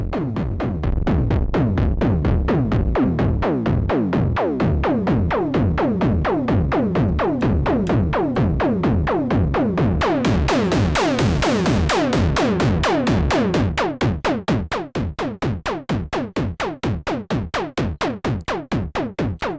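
A rapid stream of short, plucky notes from a Behringer Model D synthesizer pulsing in a fast, even rhythm, bright and buzzy, shifting pitch and thinning toward the end.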